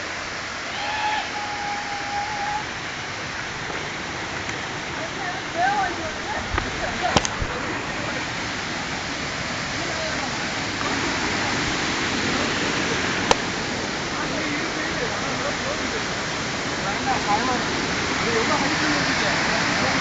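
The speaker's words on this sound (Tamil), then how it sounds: "அருவியை கண்டுபிடிச்சிட்டோம்." A waterfall rushes in a steady, broadband roar that fills the whole stretch. People talk intermittently over it, and there is a brief sharp knock around the middle.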